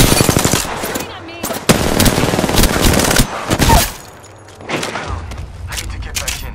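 Rapid automatic gunfire and explosive booms from an Apex Legends-style battle royale firefight, loud and dense in bursts, with brief lulls and a quieter stretch toward the end.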